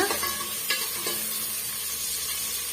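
Green chillies frying in a pan over a high flame for kurma, giving a continuous loud sizzle with a few soft scrapes of stirring, close and alone.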